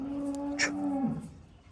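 A cow on a cattle farm lets out a single low, sustained moo lasting about a second, close and clear, with a brief soft sound partway through and quiet farmyard background.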